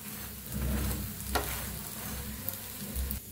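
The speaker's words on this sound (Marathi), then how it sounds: "तर दोन्ही साईडने छान असं भाजून घेऊया" Dahi dhapate, a flatbread, roasting on both sides in a hot pan gives a steady, close sizzle that lasts throughout with small rises and dips and no voices.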